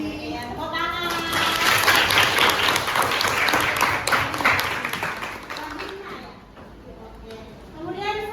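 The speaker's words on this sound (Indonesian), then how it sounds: "Ya, tepuk tangan." Audience applause fills an indoor talk or seminar session, a dense wash of clapping that swells loud for several seconds, then thins out, with speech mixed in underneath.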